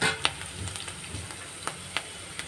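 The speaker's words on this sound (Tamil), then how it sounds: "நல்லா கொஞ்சம் வதங்கட்டும் கொஞ்சம் சிம்மில் வச்சுக்கோங்க" Chillies fry over low heat in a pan for an Onam-style ginger-tamarind dish, a soft steady sizzle with a few faint clinks and taps, quiet and close with no talking.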